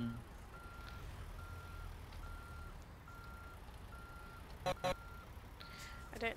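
A truck in the American Truck Simulator driving game sounds steady, evenly spaced reversing beeps over a low engine rumble, with a few sharp clicks near the end and no talk during the beeping.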